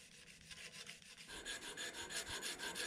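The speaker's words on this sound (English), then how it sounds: "Doing everything, including the spine, the swedge, the ricasso, getting that all sanded in a uniform manner." A forged ball-bearing twist knife blade being hand sanded at 220 grit, a steady close rasping rub in regular back-and-forth strokes that grows louder and brighter partway through.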